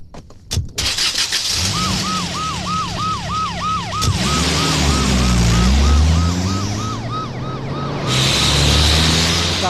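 A car pulls away after a slammed door, its engine rising steadily under a loud wailing police-style siren, close and continuous throughout.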